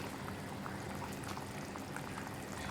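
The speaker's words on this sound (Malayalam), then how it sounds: "കണ്ടോ നന്നായിട്ട് തിളയ്ക്കുന്നുണ്ട്" Hotel-style Kerala chickpea curry (kadala curry), thickened with ground chickpeas and their cooking water, bubbles steadily in a pan, giving a continuous, dense, close simmering hiss with no voices.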